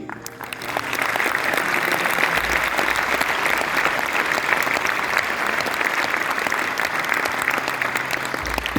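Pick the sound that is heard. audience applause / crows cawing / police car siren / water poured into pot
audience applause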